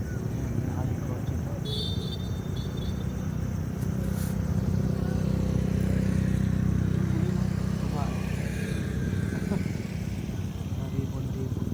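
Motorcycles pass along a city street at night in Bogo City, Cebu, a steady loud engine drone filling the whole stretch with no break.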